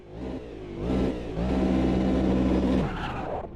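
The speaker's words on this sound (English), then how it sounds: "let us see how it drives" A DPI prototype race car in a racing video game revs and accelerates, its engine climbing through rising pitch sweeps with brief dips between gear changes, loud and close with no talk.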